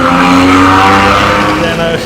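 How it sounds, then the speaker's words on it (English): A small, noisy car passes on a street in Sanur, Bali: a loud, close, steady engine drone fills the clip and eases slightly at the end, with a voice speaking over it. "That's a noisy little car."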